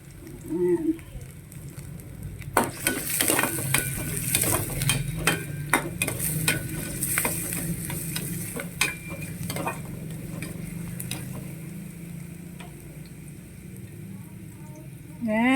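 Onion and garlic frying in a pan for a crab and papaya dish, with a steady sizzle and a quick run of close spatula clicks and scrapes early on, then a softer fry with faint voice traces.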